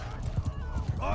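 Horses gallop in a Mount & Blade II: Bannerlord War Sails battle, quick rhythmic hoofbeats with a brief neigh near the end, fairly faint beneath a voice talking.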